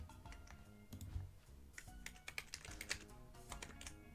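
Rapid, uneven clacking of keys on a computer keyboard, close and fairly quiet, with a few stronger keystrokes among the steady typing.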